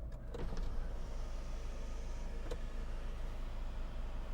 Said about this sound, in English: tilt and slide electric sunroof